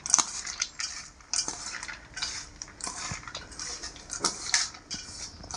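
A metal spoon stirs and scrapes dal tadka ingredients in a dish, giving irregular clinks and wet smearing scrapes, close and fairly quiet, with no talk.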